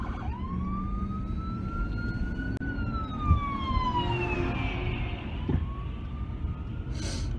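A police car siren wails close by in sweeping rising and falling tones over steady traffic rumble, holding loud and unbroken for several seconds.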